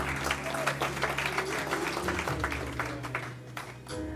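Audience applause at the launch of a digital archival collection in a university library setting, steady clapping lasting several seconds with a low hum and some voices underneath.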